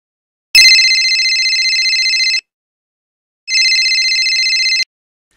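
A telephone rings twice, two loud electronic trills each lasting a couple of seconds, separated by a short silence, close and alone.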